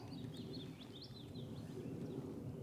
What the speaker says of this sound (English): the most noise of tonight are the birds singing